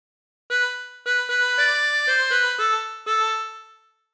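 A harmonica plays a meme phrase as a series of clear, sustained reedy notes stepping in a steady rhythm, close and alone with no talking.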